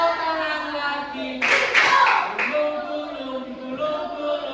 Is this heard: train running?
no